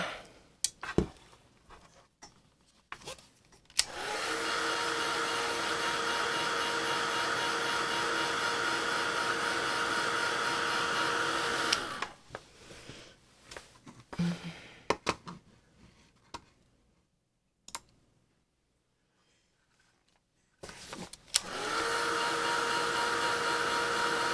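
A hair dryer blows on fresh paint on a carved wood Santa, a loud, steady whine running for several seconds, cutting off into near silence with faint handling noises, then starting again.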